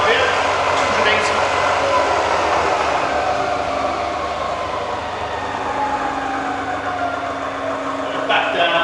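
A Bridgeport Vari-speed milling machine runs steadily in low range at 280 RPM, a smooth continuous mechanical hum with a faint whine, fairly loud and close throughout.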